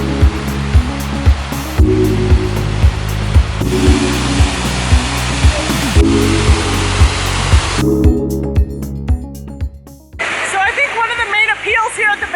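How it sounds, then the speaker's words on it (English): A small waterfall in a botanical garden in New York City gives a steady rushing wash of water throughout, with brief changes and a softer stretch near the end. "Here at the Botanical Garden that I didn't get to see the last time was this waterfall, which it's a little waterfall, but it's still beautiful"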